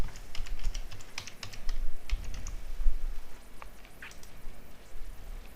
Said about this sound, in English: you have to type the password here.